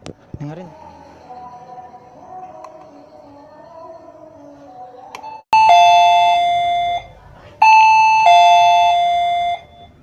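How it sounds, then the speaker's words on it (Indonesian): A cheap wireless doorbell sounds two loud, clear chimes, each a ringing two-tone ding-dong, after several seconds of quiet talking in a room. "Tanpa kabel bisa sampai suaranya ke bel ini."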